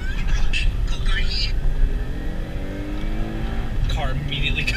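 An Acura TL's engine revs hard under acceleration, its steady rising drone climbing in pitch over a loud rumbling cabin, with a few faint voices in the background.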